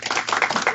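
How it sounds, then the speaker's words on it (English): Audience clapping for the women being welcomed at an entrepreneurs' panel event, a short burst of dense, steady applause from a crowd with a few voices mixed in. "A round of applause for the queens again."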